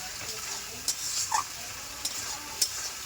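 Spices for a spicy red potato curry fry and get stirred in a pan: a continuous gentle sizzle with scattered scraping clicks of the spoon, fairly soft and close.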